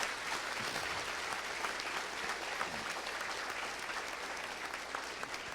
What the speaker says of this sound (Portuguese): uma salva de palmas para a equipe aqui